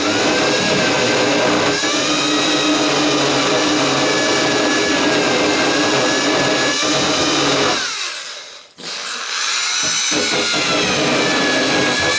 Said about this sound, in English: I guess I should keep the drill on kind of low